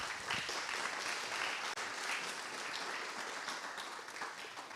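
An audience at an awards ceremony applauds for a few seconds, a steady wash of many hands clapping fairly far off, with no voices over it.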